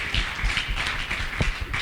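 An audience applauds at an honoring event, a short, dense patter of many hands clapping at a steady, moderate level.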